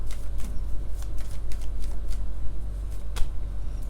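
Tarot cards being shuffled by hand during a reading, a steady run of soft riffling flicks and papery slaps close to the listener, with no voice over it.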